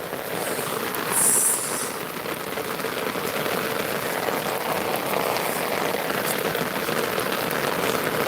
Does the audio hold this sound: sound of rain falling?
yes